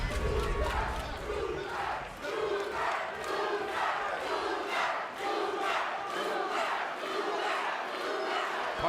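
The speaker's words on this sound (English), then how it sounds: "Partisan crowd at the Hulu Theater at Madison Square Garden." Partisan crowd at the Hulu Theater, Madison Square Garden, during a welterweight MMA fight, chanting in a loud rhythmic pulse with repeated surging shouts, a dense roar filling the arena throughout.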